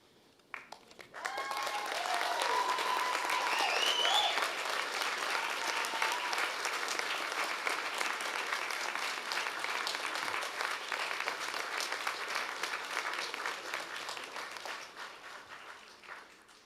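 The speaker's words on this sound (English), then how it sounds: "give them an even more rousing round of applause" A graduation ceremony audience breaks into sustained, loud applause, hundreds of hands clapping steadily for over fifteen seconds with a faint whistle or cheer near the start.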